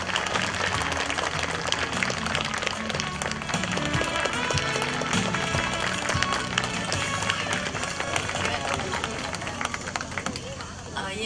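An audience gives sustained, loud clapping to welcome a guest at an event, with crowd babble mixed in, continuous for over ten seconds.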